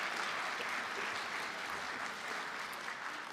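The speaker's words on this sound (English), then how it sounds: "Give them a massive round of applause." An audience at a live tech pitch competition applauds the judges, a dense steady roar of clapping that carries evenly throughout.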